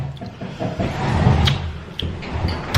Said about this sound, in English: that door is so loud